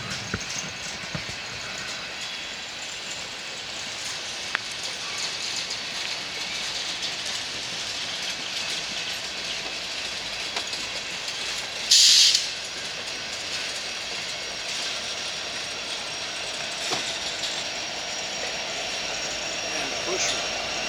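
A loaded coal train rolling past on rails in falling snow, a steady broad rumble and hiss with occasional clanks and one sharp brief squeal, heard from trackside.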